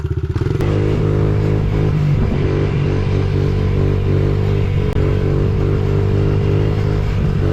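A Honda XR 70 mini motorbike rides along dirt trails, its small single-cylinder engine droning loud and close with a steady buzzing hum, slight rises in revs and occasional clatter from the rough ground.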